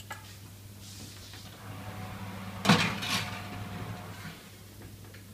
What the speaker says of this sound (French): je viens simplement de sortir nos petits cœurs du four